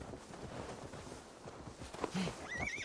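A horse in Assassin's Creed Valhalla whinnies in a short rising call near the end, over a steady bed of muffled game ambience and faint footfall-like thuds.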